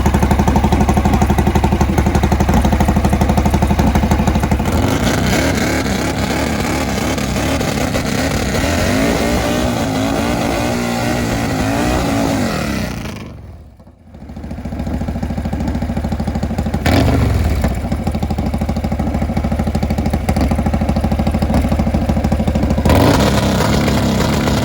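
A big-engined Harley drag street bike, billed as the fastest, roars loud and close, revving hard, cutting out abruptly partway through during a missed shift, then firing back up and running on.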